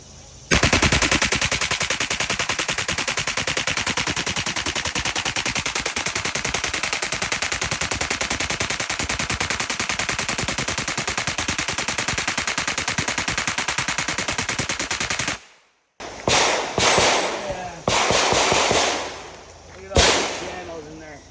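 Sustained rapid automatic gunfire from a firearm fitted with a completely baffleless suppressor, a dense unbroken stream of shots for about fifteen seconds, then a few shorter bursts and sharp reports outdoors in the mountains.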